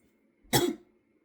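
A single short cough, close and clear, against an otherwise quiet background.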